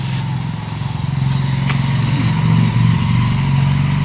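Tricycle engines rumbling past near a town plaza, a loud low motorcycle-like putter that swells as it draws close and keeps droning steadily nearby.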